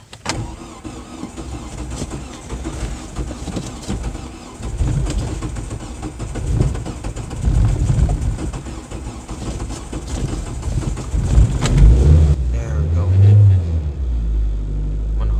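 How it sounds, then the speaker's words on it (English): A car engine on a jump starter cranks over and over, a loud churning rumble that rises and strains, then catches near the end into a lower, steadier running note. "We need the engine spinning faster."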